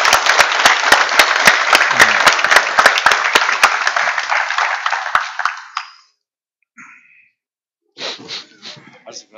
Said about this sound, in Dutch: ik wil nog graag een warm applaus voor Wiebe Draaier